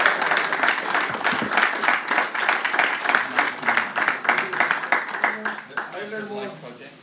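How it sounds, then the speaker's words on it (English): Audience applause for three speakers at a breeders' talk: sustained dense clapping from a crowd, steady and fairly loud, tapering off toward the end. "can we please have a final round of applause for the three men"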